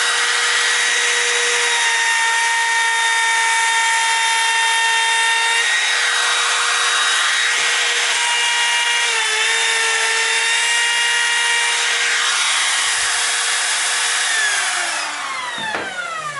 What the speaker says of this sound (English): I just made a nice little soft round on this with just a little handheld router.